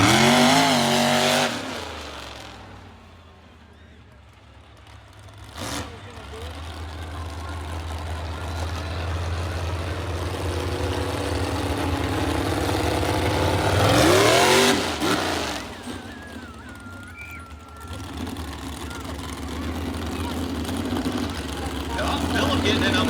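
Monster truck engines rev at a county fair between competition rounds, a steady low rumble with swelling revs and roaring bursts around the middle, under a crowd and announcer-style talk.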